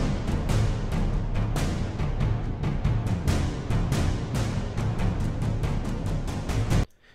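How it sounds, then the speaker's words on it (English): Dense, busy cinematic percussion loop of booming drums and rattling hits plays continuously at moderate level, then cuts off abruptly near the end. "So first thing is a percussion loop that I have imported from a refill"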